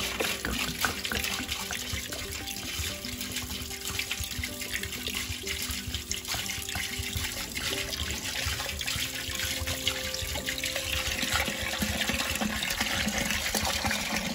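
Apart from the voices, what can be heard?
water being poured into a pot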